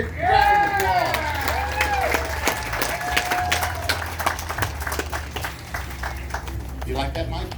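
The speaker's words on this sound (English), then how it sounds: "Let's give him a big round of applause." Crowd at the Western Idaho Fair bursting into loud applause with scattered cheers, dense clapping that holds strong for several seconds before thinning, while an announcer talks over it.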